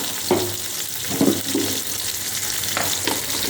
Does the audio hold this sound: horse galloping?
no